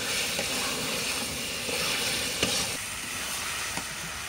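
Eggplant and potato pieces sauté in a pan over a village cooking fire, a steady close hiss and sizzle of frying with a few faint scraping stirs.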